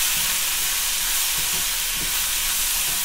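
Two onions sauté in a pan for paneer kuzhambu, giving a steady, close, even frying sizzle that hisses without a break throughout.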